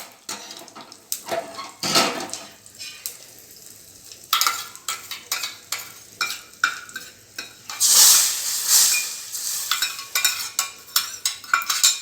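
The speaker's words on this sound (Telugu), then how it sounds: "దీనిని ఉడుకుతున్న సాంబార్లో వేయాలి." A hot asafoetida tempering poured into boiling sambar, bursts of sizzling and spluttering with clinks of a metal ladle and vessel, irregular and close, no talking.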